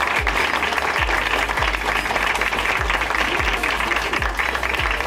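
Applause fills the room for the models at a fashion show, a dense, continuous patter of many hands clapping at steady volume throughout, with a few low thumps underneath.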